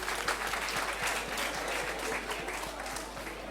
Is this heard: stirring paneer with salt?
no